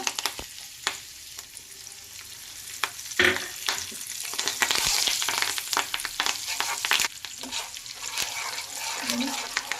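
Curry leaves fry in oil being prepared as an herbal hair oil, giving a steady crackling sizzle with occasional stirring clinks and splashy bursts, close and moderately loud, with no talk over it.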